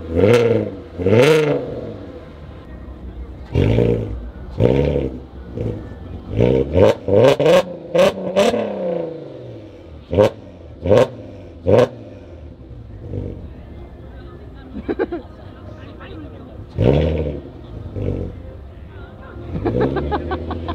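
A Volkswagen 1600 TL engine starts and revs repeatedly in sharp bursts, the rising and falling whine close and loud, with people talking and exclaiming between and over the revs.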